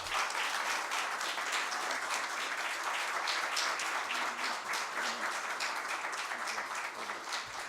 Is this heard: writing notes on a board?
no